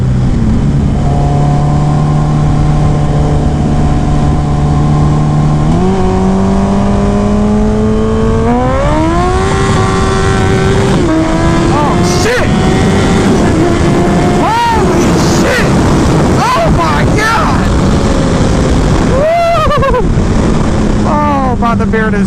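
Kawasaki ZX14R sport motorcycle ridden hard at high speed on a stretched bike, engine pitch climbing steadily through the gears with loud rising revs and wind roar, and a rider's voice talking over it.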